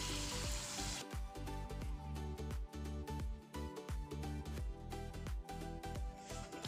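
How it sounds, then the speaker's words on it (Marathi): Pink puris deep-frying in hot oil, a steady close sizzle and crackle with repeated bubbling bursts as oil is splashed over them, running continuously without speech. "हे बघा अशा प्रकारे मी पुऱ्या तळून घेतल्या"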